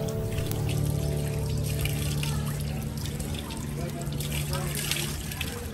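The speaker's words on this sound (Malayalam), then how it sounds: "ധാരാളം കൊത്തുപണികളുള്ള നല്ലൊരു ഭംഗിയുള്ള ഫൗണ്ടൈൻ ആണത്." Water pours steadily from an ornate carved fountain outside the Hagia Sophia in Istanbul, a continuous splashing trickle close by, with people talking and a tonal hum underneath.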